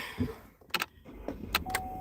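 Someone gets into a car on a hot day: a door thuds, keys and controls click in a few sharp separate knocks, then a thin electric hum of the air conditioning starts near the end, close and quiet.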